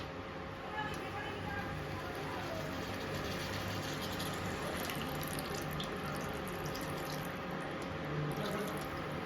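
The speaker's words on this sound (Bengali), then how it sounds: "আলুটাও অনেকটা সিদ্ধ হয়ে গেছে, তো বেশিক্ষণ বন্ধুরা এটা রাখবো না, তো জল দিয়ে দিই।" Water pours steadily from a tap into a pot of cooking potatoes for a green jackfruit (ichor) dish, a continuous close splashing rush while a voice talks over it.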